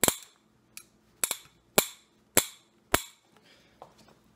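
Creaking from a Fox mountain bike suspension fork at the stanchions: six sharp, loud cracking clicks at irregular intervals, close up, followed by faint rustling.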